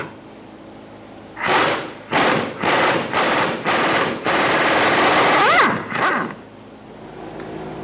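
An impact wrench or ratchet on a 13mm socket spins off the fuel tank strap nuts of a 2012-2020 Chevrolet Sonic, in a series of loud, close bursts of about half a second each, followed by one longer run.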